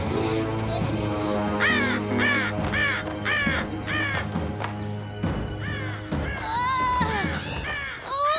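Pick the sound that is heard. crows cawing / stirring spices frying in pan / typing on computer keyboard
crows cawing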